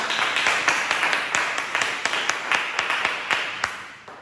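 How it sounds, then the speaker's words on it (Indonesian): An audience claps in applause for a presenter in a classroom teaching session, a steady run of dense hand claps lasting several seconds with no voices. "Beri tepuk tangan untuk Mas Putra."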